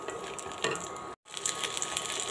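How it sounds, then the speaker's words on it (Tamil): Red chillies sizzle in hot oil as they sauté for Kerala sambal, a steady crackling fry with light stirring clicks, broken by a brief gap of silence before the sizzling carries on. "இது கூடவே 3 சிகப்பு மிளகாய் சேர்த்து நல்லா வதக்கிக்கலாங்க"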